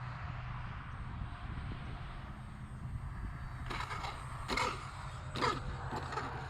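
An FMS Sky Trainer 182 Cessna RC model airplane flies on a Florida winter day, its electric motor a steady hum with brief louder whooshes as it passes, under a low continuous drone.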